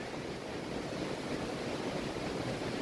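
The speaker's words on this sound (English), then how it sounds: "So this is the Brewster River that this covered bridge is going over." The Brewster River rushes beneath a covered bridge, a steady broadband wash of flowing water filling the whole stretch without pause, fairly loud and close, with no voices.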